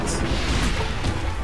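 Loud, dense burst of an enemy blowing up in The Legend of Zelda: Breath of the Wild, a boomy crash filling the whole moment with low rumble and no gap.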